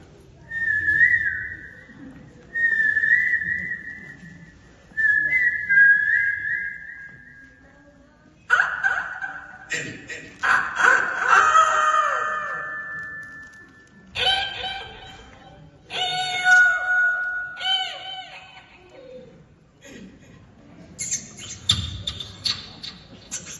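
A girl mimics birds with her voice, imitating a pigeon, cuckoo, peacock and rooster in a series of separate whistled and squawking calls, some long and sustained, others sharp and bursting, with short pauses between them.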